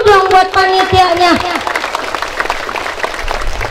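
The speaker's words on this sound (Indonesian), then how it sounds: "Tepuk tangan dulu dong buat panitianya." A crowd at an Islamic lecture by a preacher in Mesuji claps for the event committee, steady applause beneath a loud voice that fades after about a second and a half, leaving a busy patter of hand claps.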